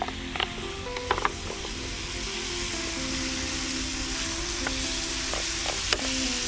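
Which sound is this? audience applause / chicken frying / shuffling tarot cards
chicken frying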